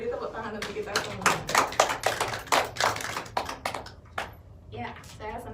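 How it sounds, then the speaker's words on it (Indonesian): A class in a microteaching lesson of Indonesian for foreign speakers claps in uneven, sharp bursts that swell and fade, with voices talking over and between the claps. "beri tepuk tangan untuk kita semua"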